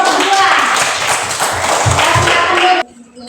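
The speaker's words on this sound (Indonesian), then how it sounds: "kita tepuk tangan untuk kelompok 2" A classroom group claps for group 2, a dense burst of hand claps lasting nearly three seconds before cutting off, with voices mixed in.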